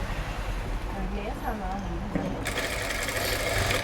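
A sewing machine runs steadily at close range while stitching piping on a blouse, its motor whirring under someone talking throughout.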